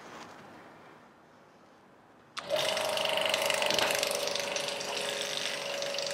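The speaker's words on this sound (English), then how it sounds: "that is going to get the vacuum pump pumping" Quiet room, then a vacuum pump used for testing engine valve seats switches on abruptly and runs loudly with a steady mechanical hum and whine.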